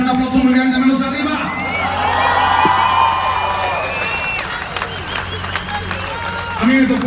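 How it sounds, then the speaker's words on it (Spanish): A large open-air concert crowd in Mexico City's Zócalo applauds and cheers, a steady wash of clapping and whoops that swells, with a voice over the noise at the start and end. "de parte de todos ustedes, un aplauso muy grande"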